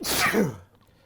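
A single sharp sneeze, close and fairly loud, followed by a brief quiet tail.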